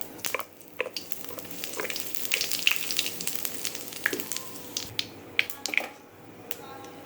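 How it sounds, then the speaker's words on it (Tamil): Mustard seeds spluttering in hot oil for lemon rice, a steady frying hiss broken by irregular sharp pops and crackles, close and fairly quiet, with no voice over it. "கடுகு பொரியுது"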